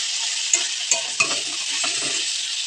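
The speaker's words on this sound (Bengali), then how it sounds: "হাই ফ্লেমে দিয়ে একটু নাড়াচাড়া করে জলটা শুকিয়ে নেবেন" Bottle gourd peel fries with poppy seeds on a high flame, sizzling steadily as a utensil stirs it. A few sharp clinks and scrapes come through close over the constant hiss, and nobody talks.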